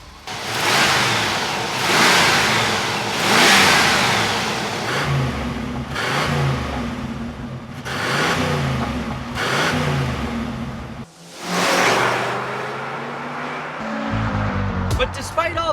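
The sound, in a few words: 1979 Trans Am 6.6 liter V8 engine revving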